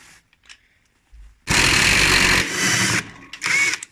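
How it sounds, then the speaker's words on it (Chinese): An electric impact wrench spins off the pulley bolt of a Haier front-loading washing machine with a 15 mm socket, loud rattling bursts of about a second each, separated by brief gaps, close up. "拿电动扳手轻松就可以卸下来。"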